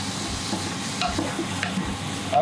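Onions and curry sizzle steadily in a pan while a utensil stirs and scrapes, close up with a constant frying hiss.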